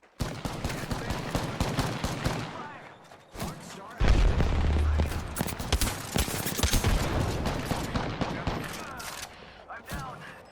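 Rapid bursts of gunfire in Apex Legends crackle in quick volleys, with heavier booming shots joining partway through, loud and close amid the game's combat noise.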